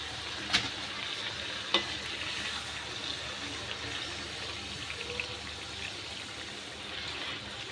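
Vadas fry and puff up in hot oil, making a continuous bright sizzle at moderate level, broken by two sharp clicks early on and a few small crackles, with no voices.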